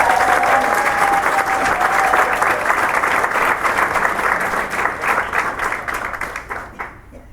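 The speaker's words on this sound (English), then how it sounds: "give a round of applause." An audience at a 40th anniversary party breaks into loud, dense applause, sustained clapping from many hands that gradually thins and fades out at the end.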